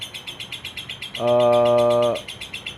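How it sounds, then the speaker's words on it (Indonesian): A caged songbird, a champion contest bird, gives a loud sustained whistled song lasting about a second, set against a steady rapid chirping of other birds throughout. "Burung ini hampir setiap hari sekarang gua gantang, dan alhamdulillah masih mau jalan."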